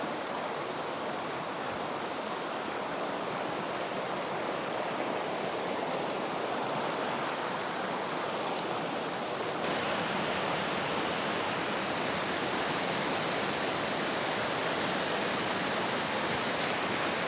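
A rushing mountain river pours near a waterfall along a forest eco trail, making a steady, dense roar of water that stays loud and unbroken throughout.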